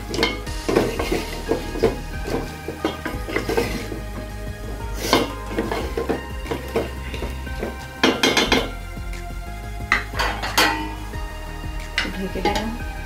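Spatula stirring fish heads and cut vegetable stalks in a cooking pan, with repeated scraping clinks against the metal and a soft sizzle underneath, close and continuous throughout.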